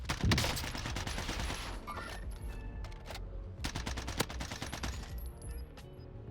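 Gunfire from the video game Call of Duty Warzone, in a solo battle royale match: dense, sustained volleys of shots and bursts rattle on throughout, loud and continuous with overlapping reports.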